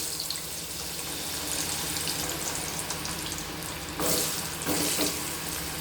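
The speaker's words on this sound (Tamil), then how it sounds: "இப்போ பூசணிக்காவை கொஞ்சம் கொஞ்சமாக பொறிச்சு எடுக்கணும்" Pumpkin pieces frying in hot oil, a dense, loud, continuous sizzle heard close up, swelling into brighter bursts of crackling toward the end.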